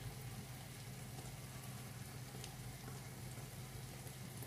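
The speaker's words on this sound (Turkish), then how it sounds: "Şimdi bir güzel salça ile birlikte kıymamızı da kavuracağız" Ground beef with tomato paste fries in a pan, giving a faint, continuous crackling sizzle with no pauses.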